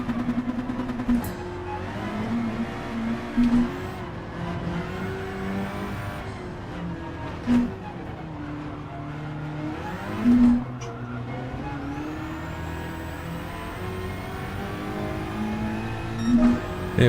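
A Gr4 race car engine in Gran Turismo drones steadily through the gears, rising and falling with shifts and brief louder revs and tire noise, with no talk.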